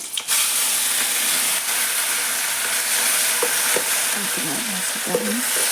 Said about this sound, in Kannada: ಸ್ವಲ್ಪ ಎಣ್ಣೆಗೆ ಫ್ರೈ ಮಾಡ್ತೀನಿ ರೀ